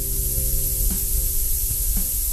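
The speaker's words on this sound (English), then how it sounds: "The sounds you are hearing are the relief valves cycling old air out of the chamber while the compressor cycles new air in" Relief valves on a hyperbaric dive chamber venting old air while the compressor cycles new air in: a steady broad hiss with a low mechanical hum underneath and a few faint clicks.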